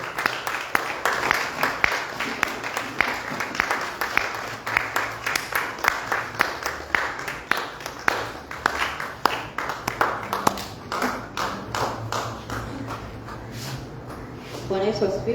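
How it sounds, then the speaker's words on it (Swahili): A church congregation claps in a lively, steady rhythm for about fifteen seconds, many hands together at moderate distance, with voices talking and calling out over the applause. "Mpigie makofi."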